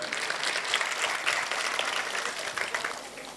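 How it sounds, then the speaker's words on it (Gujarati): A school audience at a knowledge festival run by an education society in Limbdi claps loudly and steadily, with dense, sustained applause from many hands and no break. "પીકે પરમાર સાહેબ માટે જોરદાર તાળીઓ આપણે વધાવીશું"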